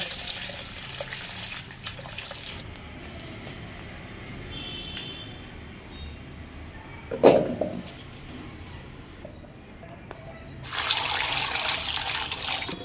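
Running water splashes and trickles intermittently as potatoes are rinsed, with a brief sharp knock midway and a stronger gush of tap water at the end.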